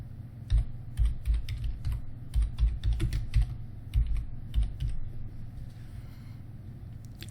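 Keys clatter on a computer keyboard in irregular bursts of quick taps with short pauses between words, close and crisp against a low steady background hum, with no voice.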